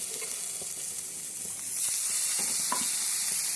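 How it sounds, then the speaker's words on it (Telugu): Soaked chana dal tipped into a hot pan of oil for a ridged gourd curry, giving a steady sizzling hiss that swells partway through, with faint stirring clicks and no talking. "ఇప్పుడు మనం శనగపప్పు నానబెట్టుకున్నాం కదండి, అది వేసేయండి."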